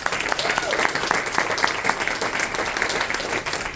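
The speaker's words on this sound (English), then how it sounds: "Give her another round of applause." An audience at a live storytelling event bursts into sustained, dense applause, loud and even throughout, with no speech over it.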